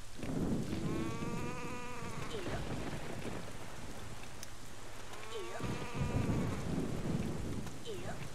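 Steady rain in the video game The Legend of Zelda: The Wind Waker HD pours down with a low rumble of thunder beneath it, and occasional bird calls break through the downpour.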